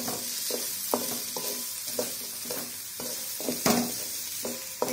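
Small shallots frying in a pan for beetroot chutney, with a steady sizzle broken by regular scraping stirs of a spoon, close and fairly loud, no voices.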